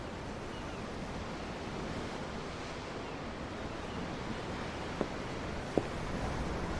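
Ocean waves from the deck of a ship at sea in Tales of Arise: a steady, continuous wash of surf mixed with wind, with two faint clicks near the end.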